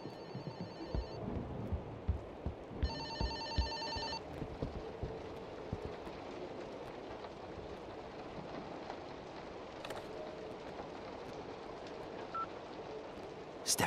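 A telephone rings in the St. Dinfna Hotel horror video game, with bursts of bright ringing early on heard over a steady background hiss, then fading into ambient noise.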